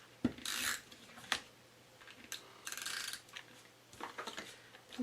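A snail adhesive tape runner being applied while making a card, giving quiet, close ratcheting clicks and short raspy rolling bursts, spaced irregularly over a faint hum.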